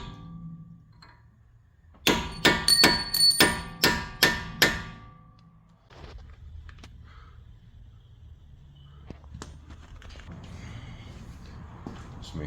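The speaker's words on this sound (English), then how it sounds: "So I just use a chisel, get it lined up there, and just tap it down." A steel chisel hammered to stake the axle nut on a 2014 Honda Ridgeline front CV shaft: about six sharp, ringing metallic taps in quick succession, close and loud, then quieter clinks and shop noise.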